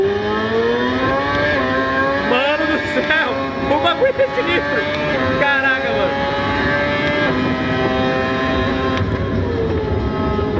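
Ferrari Formula 1 car engine at the Spa-Francorchamps circuit in a realistic F1 racing simulator, a loud, steady high-pitched whine rising and falling with throttle throughout, with excited talking over it.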